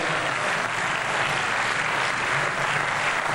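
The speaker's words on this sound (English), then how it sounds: "An enormous round of applause for Steve Wozniak" A lecture hall crowd at Sonoma State University gives Steve Wozniak a steady, dense round of applause, loud and continuous throughout with no voices breaking through.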